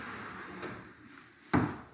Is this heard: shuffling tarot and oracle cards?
no